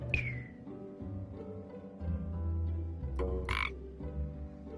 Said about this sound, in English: Tiny gets turned into frog.